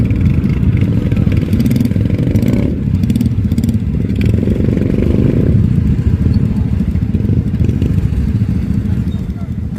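A motorcycle rolls aboard a small roll-on river ferry boat at Daraitan, Tanay, Rizal, its mid-pitched engine droning loud and close with clattering and scraping over the deck, while voices talk faintly beneath.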